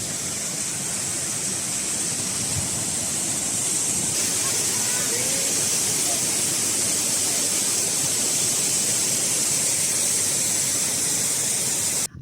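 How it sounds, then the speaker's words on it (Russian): A steady, roaring rush of falling water at a waterfall in Antalya, broad and hissing, continuing unbroken as if standing close to it. "А здесь у нас уже конец и начало водопада."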